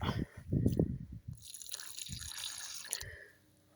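Water poured over a newly planted frisée seedling in a garden, a short splash and trickle of liquid onto soil, close and fairly quiet, with a brief burst of handling noise at the start.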